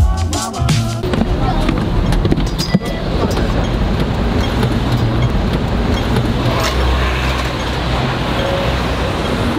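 A Hong Kong tram rumbles and rattles along its tracks while riding inside, a loud continuous clatter and hum with a few sharp knocks near the start.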